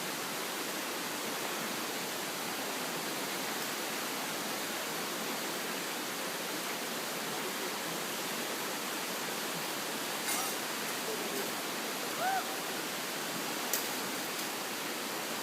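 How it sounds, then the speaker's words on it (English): River water flowing steadily beside a campsite, a constant broadband rush with no breaks, moderately distant and even throughout. "can you hear the sound of the river?"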